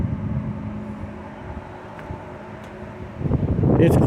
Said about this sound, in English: The fans are actually louder than the fuel pump.